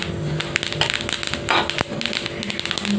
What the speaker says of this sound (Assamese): তিল ভাজিলে এনেকুৱা শব্দ এটা হয়